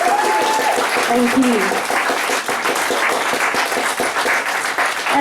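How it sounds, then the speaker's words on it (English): Audience at a spoken word reading applauds a reader with steady, dense clapping that fills the room, with a few whoops rising over it and a voice speaking briefly at the end. "Can we get another round of applause?"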